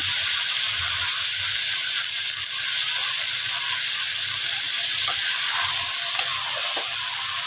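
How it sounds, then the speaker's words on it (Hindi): Potatoes and peas frying with spices for aloo matar, giving a continuous, even sizzle and hiss up close, with soft stirring noises mixed in and no talking. "और मसाले के साथ इसे भी हम थोड़ा सा भून लेंगे"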